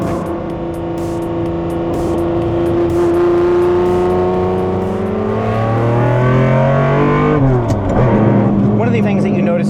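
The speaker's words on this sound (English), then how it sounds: "when you step on the throttle you can hear the induction noise from the independent throttle bodies" A Lamborghini Diablo GT engine revs hard with a rising, throaty induction roar from independent throttle bodies, drops sharply near the end, then climbs again, loud and close.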